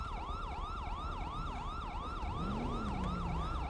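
Emergency vehicle sirens wail in a fast, rapidly repeating up-down yelp, loud and close, with a second lower tone sweeping up and sliding down partway through over road rumble.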